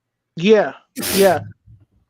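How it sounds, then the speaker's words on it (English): A sudden sneeze from a person who is a little under the weather bursts out once, loud and close, followed by brief murmured speech. "Was that a sneeze"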